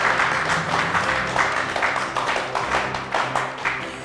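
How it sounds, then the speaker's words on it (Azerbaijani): An audience applauding at a televised show, a steady spread of many hands clapping in a busy room. "zəhmət olmasa alqışlayaq Həqiqət xanımı"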